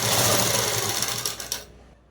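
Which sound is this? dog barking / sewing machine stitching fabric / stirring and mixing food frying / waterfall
sewing machine stitching fabric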